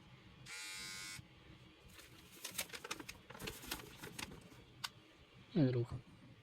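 A Remington Barber's Best lithium-powered body comb trimmer buzzes steadily and fairly loudly for under a second, then cuts off, followed by handling clatter and a person talking.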